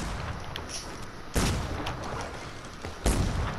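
Two heavy, booming gunshots from a sniper rifle in a shooter video game, sharp and loud at about one and a half seconds apart over a steady background hum, with no talking.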